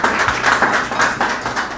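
Audience applause for the guests seated at the front table at a Cameroonian generative AI conference, dense steady clapping at moderate loudness with no voice over it.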